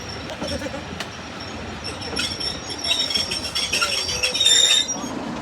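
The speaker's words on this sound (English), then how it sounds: "Here is West Coast Railways 33025 leaving Northern on the service towards Swanage" West Coast Railways Class 33 diesel locomotive 33025 departs with a train at a heritage railway diesel gala, with a low rumble, clinks and wheel squeals that build slightly as it pulls away.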